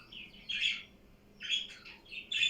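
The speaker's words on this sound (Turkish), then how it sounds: "Kuşlar birazcık sessiz olur musunuz?" Birds chirp in bright, short bursts that come and go, close by over a quiet background.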